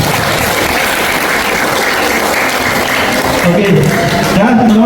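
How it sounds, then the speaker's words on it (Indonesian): New students at a school orientation clap for two pupils, loud continuous applause filling the room with a voice speaking near the end. "Tepuk tangan untuk mereka berdua"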